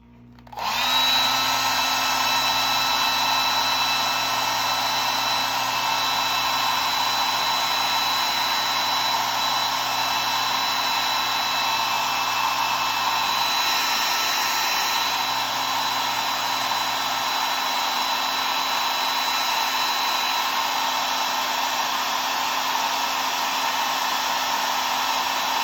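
A hair dryer blows steadily on the wet paint of a goldfinch painting, a loud, even whir that starts abruptly and runs unbroken for the whole stretch, with no talking.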